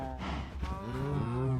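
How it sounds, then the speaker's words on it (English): Blocky Minecraft cows mooing in a low, drawn-out, harmonic bellow that rises and holds near the listener, with a steady game-world hum underneath and no talking. "I need to move these fucking cows as well."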